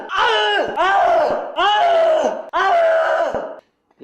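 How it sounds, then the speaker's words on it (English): Four long, anguished screams in a video art edit, each a sustained wail that bends downward, separated by short breaks and followed by a brief trailing cry. "sorrow-filled screams"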